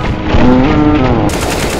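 Rapid automatic gunfire in Counter-Strike: Global Offensive, loud and close, a dense burst of shots filling the short moment without speech.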